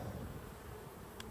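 Honey bees drone around an open, strong hive during an inspection, a faint continuous buzz close by with no voices.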